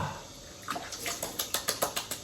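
Cold water is splashed onto a face after shaving, a quick series of close wet splashes in an uneven rhythm, getting faster toward the end, heard alone over a faint running tap.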